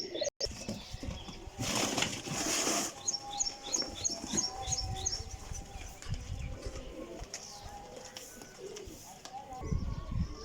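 Black Sialkoti pigeons flap their wings in a loud burst of fluttering near the start, followed by a run of quick chirps, soft coos, and low indistinct voices in the background.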